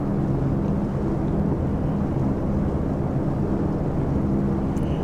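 A DC-3 airliner in X-Plane 11 drones steadily with loud, continuous low engine rumble, banking out over the ocean near Vancouver International toward runway 8 right, with no break or change in level.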